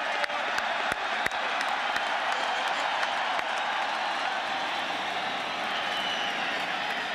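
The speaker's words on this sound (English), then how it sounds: "Crowd likes this because Dawson is going to come on and try a long field goal" A college football stadium crowd, Texas Tech at Texas, fills the air with a broad, steady roar of applause and cheering, with a few sharp claps near the start.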